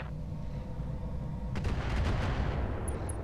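A mech weapon fires in the Roguetech game: after a low rumbling drone, a heavy burst of booming shots erupts midway and rolls on, loud and close, with two faint high electronic beeps at the end.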